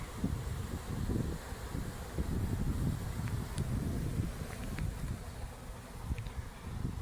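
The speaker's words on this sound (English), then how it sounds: "Look at these bees, fanning, marching." Honeybees fanning and marching into a swarm trap outdoors, a steady low buzzing hum rising and falling under light wind and rustle, with a few faint higher insect whines passing close by.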